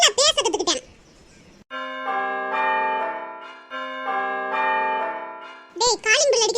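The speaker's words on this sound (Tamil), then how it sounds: "காலிங் பெல் அடிக்குது" A two-tone electronic doorbell chimes clearly for several seconds, its steady ringing tones pausing briefly and then sounding again, set between stretches of animated cartoon voices talking before and after.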